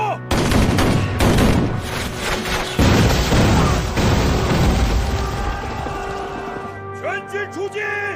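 Dramatized battle scene with cannon fire and explosions, a rapid volley of loud booming blasts and crackling gunfire that rumbles on, with shouting voices and a brief pause before more distant bangs.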